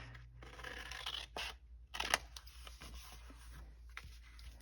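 Scissors cutting across paper to make rose craft tags, close crisp snipping and slicing strokes with a few papery scrapes and handling rustles, quiet and intimate.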